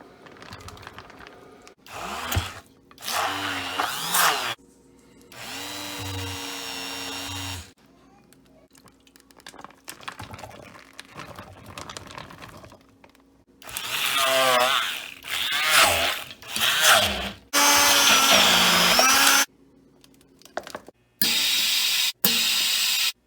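A blender whirs in several loud bursts of varying length while blending cooked baby food, separated by quieter pauses with some handling sounds.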